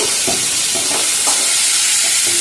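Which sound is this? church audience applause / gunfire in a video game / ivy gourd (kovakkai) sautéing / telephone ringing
ivy gourd (kovakkai) sautéing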